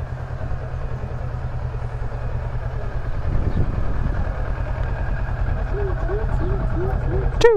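A 2018 Kawasaki Versys 650 ABS Tourer idles steadily while being parked, its low engine hum running throughout, with a brief rev swell near the middle and a short series of chirping squeaks near the end.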